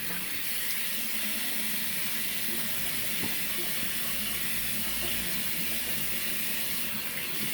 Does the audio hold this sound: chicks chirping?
no